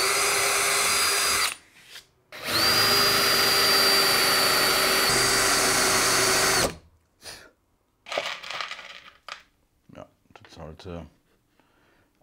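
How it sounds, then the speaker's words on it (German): A small drill bit bores through a French cleat tool holder in two loud, sustained bursts with a steady high whine, followed by a person talking intermittently. "Da bohren wir jetzt mit einem Bohrer durch, mit einem kleinen Bohrer"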